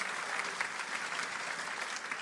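A congregation applauds together in a church service, a steady wash of many hands clapping at moderate distance, even in level from start to finish.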